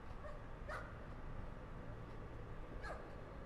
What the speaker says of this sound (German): Irgendwas bellt.